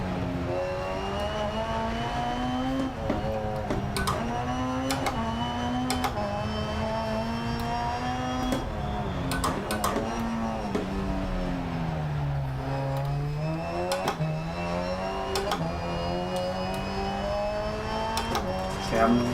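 A rally car engine in DiRT Rally 2.0 revs and varies in pitch through a rallycross stage, rising and falling continuously with sharp clicks and gear-shift bursts, while a voice talks over the steady engine noise.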